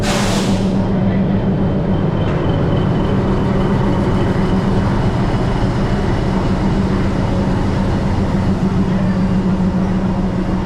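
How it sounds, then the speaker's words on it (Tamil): A steady, loud rumbling roar of the Palakkad Superfast Express train rolling into a station in India, constant and droning throughout with a faint metallic whine on top. "நம்ம போக வேண்டிய ட்ரெயின் இப்போ தான் ஸ்டேஷனுக்குள்ளேயே வருது"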